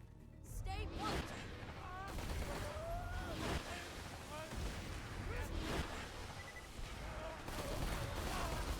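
Rapid bursts of video game gunfire and impacts crackle through a shooter match, dense and loud with repeated sharp shots and whooshing effects, while a player talks over the action.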